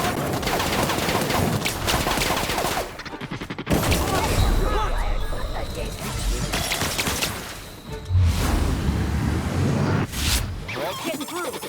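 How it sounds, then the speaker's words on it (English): Intense gunfire exchange in The Outer Worlds video game, dense bursts of rapid shots and impacts crowding most of the clip with short lulls between volleys, loud and close, with voices shouting over it. "Returning fire!"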